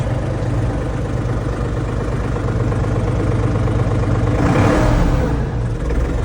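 A Solis 50 RX tractor with a cab and reverser runs its diesel engine up close. The loud, steady drone swells briefly in a rev a little past the midpoint, then settles back.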